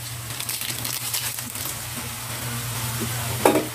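Pork and egg being stirred in shrimp paste in a hot pan, a continuous crackling sizzle with soft scraping strokes and a low steady hum beneath, close up, ending in a brief sharper clatter.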